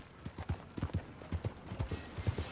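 Horse hooves clip-clop in Red Dead Redemption 2, a steady, close rhythm of low thudding steps that keeps a regular trotting pace throughout.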